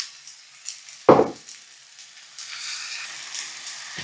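Enoki mushrooms frying in olive oil with paprika and garlic: a sharp clack from a pan or utensil, then a soft, steady sizzle close by that continues, with another faint knock at the end and no talking.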